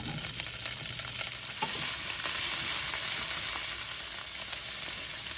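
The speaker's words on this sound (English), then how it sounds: "Add our asparagus first. This is going to cook about 2 minutes until it changes color." Fresh asparagus frying in olive oil in a pan over medium-high heat, a steady close sizzle and crackle with occasional stirring scrapes throughout.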